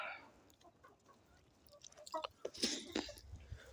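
Hens clucking nearby after laying eggs, soft intermittent clucks that grow busier and louder toward the end, with quiet background rustle and no talk.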